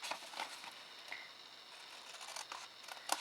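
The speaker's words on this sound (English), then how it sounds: "with the inner box, again, we're going to cut down on each 4 sides, rotating as we go." Scissors cutting down the sides of a small inner craft box, soft crisp snips and papery rustles scattered close by, faint, with no talking.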